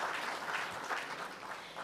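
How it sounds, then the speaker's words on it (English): Audience at a digitalization symposium applauds the panelists after a panel discussion, a steady dense wash of many hands clapping at moderate volume throughout, with no talking over it. "Another round of applause for our panelists"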